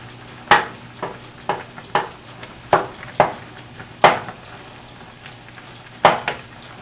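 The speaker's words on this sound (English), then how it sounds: "Keep stirring it." Macaroni being stirred in a pot on a stove: a series of about ten sharp clinks and scrapes of a utensil against the pot at an uneven rhythm, close and fairly loud over a low sizzle.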